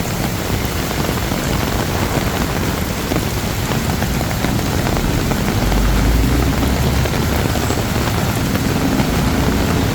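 Heavy rain pours steadily during extreme flooding in Bangkok's Sukhumvit district, a loud, dense, continuous hiss of drops with no speech.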